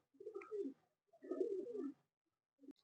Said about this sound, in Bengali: এই দেখুন উড়ে উড়ে সব পায়রাগুলো কি অবস্থা